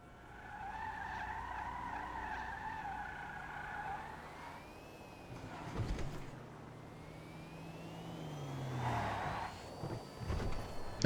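Driving sounds from an Overflod Pipistrello, a fully electric car with a turbo upgrade, in GTA Online: tyre skids and squeals alongside a rising electric whine over steady road noise, loud and close, with no voices.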